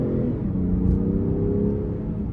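A 2023 Range Rover Sport SE Dynamic engine drones low inside the cabin in sport mode, with a brief rise and settle in revs as it downshifts via the paddles, heard from within the car.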